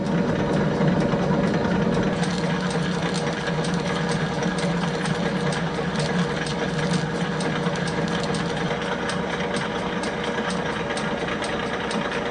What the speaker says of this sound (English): With the lathe running in back gear, we'll engage the cross-slide power feed and part this piece off.